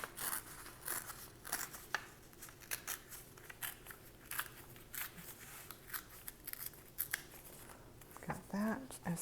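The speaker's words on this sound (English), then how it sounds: "I am just going to tear this, and then we can trim off that edge." Paper is torn and trimmed with scissors for a junk journal, giving close, quiet crisp snips and rustles in an irregular rhythm, with a brief voice near the end.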